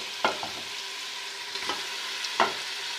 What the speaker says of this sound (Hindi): और गोश्त को हम उस वक्त तक भूनेंगे जब तक कि इसका पानी ख़त्म नहीं हो जाता